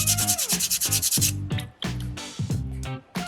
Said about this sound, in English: just a light sanding is all it takes